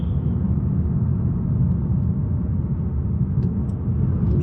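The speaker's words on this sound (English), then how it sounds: "3000, nothing, 4000, and whoa, the car just goes" A Lexus RC350 F-Sport under hard acceleration gives a loud, steady low engine rumble and road drone heard from inside the car for several seconds without a break.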